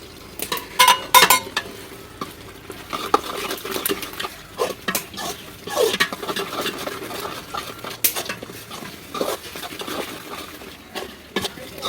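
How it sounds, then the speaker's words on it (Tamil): A spoon stirs and scrapes masala sautéing in a pan for chicken biryani, with light sizzling and intermittent metallic clinks in an uneven rhythm, fairly close. "மசாலா போட்டு நல்லா வதக்கி வச்சு ஒரு நல்ல வாசனை வருது."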